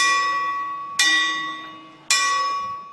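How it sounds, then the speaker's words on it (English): A single church bell at a monastery on Mount Athos, struck twice about a second apart, each strike ringing out bright and clear with a long humming decay in a quiet space. "a single bell rings"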